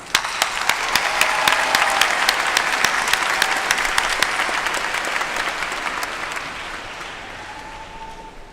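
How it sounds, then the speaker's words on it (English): Audience applause fills a high school graduation ceremony hall, steady dense clapping from a large crowd that stays loud for several seconds and then slowly fades away. "let's give them a huge round of applause"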